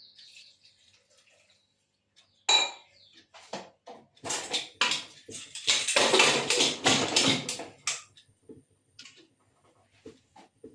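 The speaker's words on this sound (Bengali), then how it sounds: "আমি একটু জল দিয়ে দিই।" Water is poured into a pot holding potato and yam (ol) being readied for a pressure cooker, a gurgling, splashing burst of several seconds after a few small taps, then trailing off into light drips.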